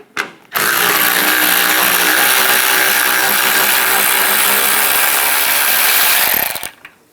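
A power tool spins out a fender bolt on a 2011-2018 Ram 1500, a loud continuous mechanical whir lasting about six seconds, starting and stopping abruptly, close up with no talking.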